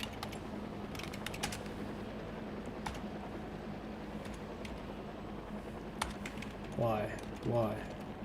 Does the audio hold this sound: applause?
no